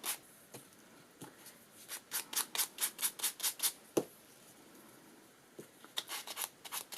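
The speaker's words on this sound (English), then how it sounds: "I used my sanding block and I just gave everything a quick little sand." Quick scratchy rubbing strokes, a sanding block worked back and forth over paper craft tags in rapid bursts, with pauses between sets of strokes.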